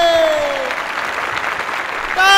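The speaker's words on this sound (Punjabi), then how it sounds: "ਤਾੜੀਆਂ" An audience claps through a Punjabi comedy show in a sustained burst of dense, moderately loud applause. A voice is heard briefly over the clapping at the start and again at the end.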